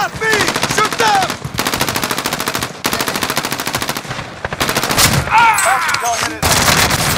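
Sustained automatic gunfire in the video game Call of Duty Rebirth, loud rapid bursts with brief gaps, while a player cries out once.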